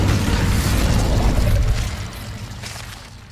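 An Incendio fire spell bursts in Hogwarts Legacy with a loud, roaring whoosh of flame that holds steady for about a second and a half, then dies away into a softer rumble.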